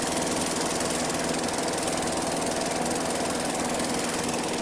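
A Geet engine runs in a closed loop with no exhaust, making a loud, steady mechanical drone with rapid knocking pulses that holds constant throughout, no voices.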